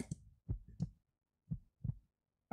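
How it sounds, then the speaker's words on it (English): Heartbeat sound effect from the visual novel game Ikimono High, a deep lub-dub pulse repeating three times, close and thumping with short pauses between beats. "Our heartbeats are getting louder and louder."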